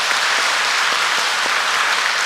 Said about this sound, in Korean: 우리 알토를 위해서 크게 박수 한번 하겠습니다